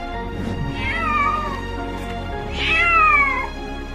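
A cat meows twice, two drawn-out, close, clear cries separated by a short pause.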